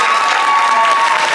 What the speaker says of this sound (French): Donc rien que pour ça, on peut les applaudir très fort.